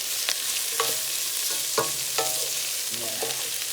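Vegetables with cilantro, serrano pepper and garlic cook in a pan alongside chicken, a soft continuous sizzle broken by several clacking stirs of a utensil against the pan at uneven intervals.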